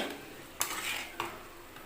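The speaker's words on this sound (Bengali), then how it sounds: "দেখো দিয়ে একটু নেড়ে চেড়ে নিচ্ছি" A utensil stirring food in a metal pan, soft scraping under a faint sizzle, with two sharp knocks of the spoon against the pan's rim.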